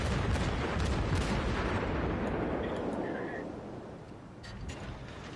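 Naval gunfire booms in the World of Warships game, heavy broadband blasts rumbling loudly at the start and slowly fading into a lower roar, with faint chatter underneath.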